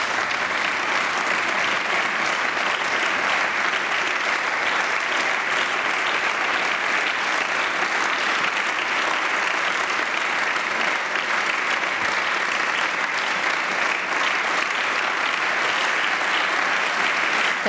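Sustained, dense applause from a full chamber in the Bavarian Landtag for a departing minister, steady and loud throughout with no break or fade.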